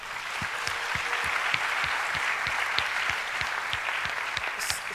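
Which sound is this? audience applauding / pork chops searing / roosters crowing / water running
audience applauding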